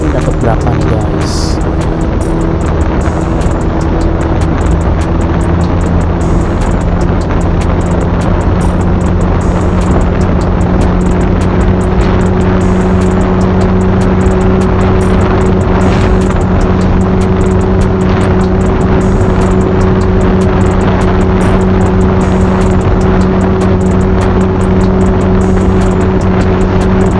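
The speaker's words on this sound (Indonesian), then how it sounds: "sekarang Yamaha NMAX ini dibawa langsung sama ownernya nih guys, sama si Franz." A Yamaha NMAX 275 cc scooter ridden by its owner gives a loud, steady engine drone with constant wind rush throughout, the motor holding an even pitch at close range.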